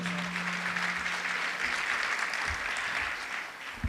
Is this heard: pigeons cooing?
no